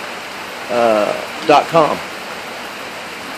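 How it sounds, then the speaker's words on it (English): Steady rain hisses on Negril beach in Jamaica, a constant wash of noise under a voice speaking in short bursts. "There's more rain from Negril Beach."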